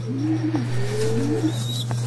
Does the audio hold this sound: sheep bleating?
no